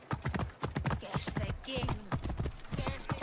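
Horse hooves clip-clop steadily on the ground in Assassin's Creed Origins, a quick rhythmic gait heard under someone talking, with faint breathy snorts.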